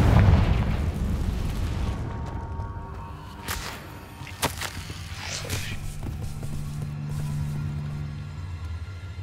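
A Confringo spell blast in Hogwarts Legacy, with a few sharp pops and booms spread through the stretch over a low background rumble, ending in a steady hum.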